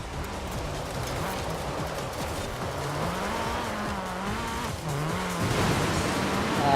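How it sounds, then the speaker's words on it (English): A car in Forza Horizon 4 with its wheels spinning uselessly on water, a continuous droning engine with wavering pitch and a steady wash of churning spray, growing slightly louder toward the end. "the wheel just spins. It doesn't. It cannot drag the car across the water really well."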